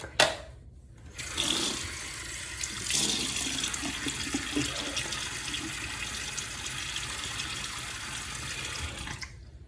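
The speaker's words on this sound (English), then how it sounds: "let me get my face wet" A bathroom tap runs steadily as a face is wetted before a shave, a close, continuous splashing flow of water into a sink that starts after a brief gap and carries on alone to the end.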